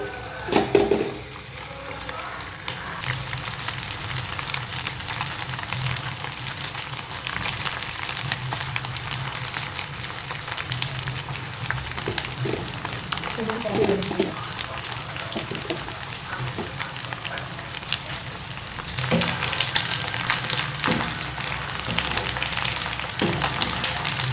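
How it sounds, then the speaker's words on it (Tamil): Pasta pieces for Pasta 65 deep-frying in hot oil, giving a steady, dense sizzle and bubbling that runs throughout at an even, fairly loud level. "எண்ணெய் காஞ்சிச்சு, இதில் பாஸ்தாவை போடலாம்"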